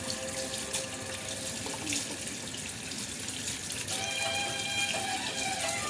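Tap water runs steadily into a sink while hands are rubbed and washed beneath it, a continuous close splashing rush with no talking.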